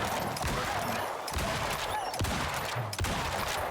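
Bursts of gunfire in the survival game Icarus, a near volley of rapid shots and sharp cracks repeating through the moment over a dense, noisy game backdrop.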